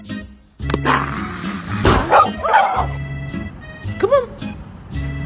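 A dog barks and yips at close range indoors in a bedroom, mixing loud bow-wow barks with whiny yelps while a person talks over it.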